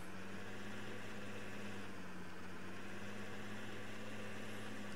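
A tractor engine idles steadily in Farming Simulator 2013, a low continuous hum with a constant tone, moderately quiet and alone with no talk.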